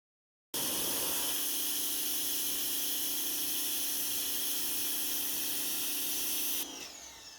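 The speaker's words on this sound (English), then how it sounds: "A little pressure from the pressure washer gets the dot off." A pressure washer sprays the wheels of a 2021 Nissan Rogue, a loud, steady hiss that starts abruptly, runs for about six seconds and cuts off, leaving a quieter trickle.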